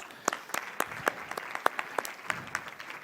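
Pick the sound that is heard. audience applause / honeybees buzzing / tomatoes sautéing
audience applause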